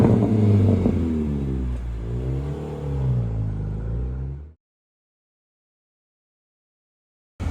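A Honda CR-Z fitted with a Mugen titanium exhaust pulls away, its engine droning loud and close with a rising, wavering rev before cutting off abruptly into silence.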